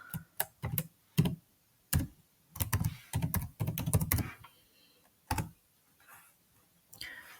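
Someone types a surname into a search field on a computer keyboard, in irregular bursts of clicking keystrokes with pauses between them, close and fairly loud with no talking.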